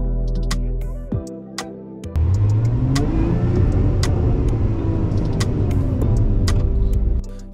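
Lotus Emira sports car on an empty gorge road, engine idling briefly before a sharp rev and loud, close acceleration that holds a strong rumbling drone for several seconds, then eases off.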